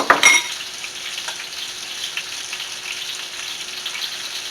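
Pork chops dredged in flour sizzle steadily in a hot pan, a constant close crackle and hiss with a brief clatter at the start, no voices.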